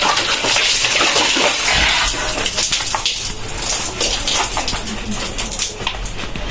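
Body being scrubbed with a cut piece of sack and water while bathing in a village bathroom, a close, continuous wet rubbing and splashing with no talk.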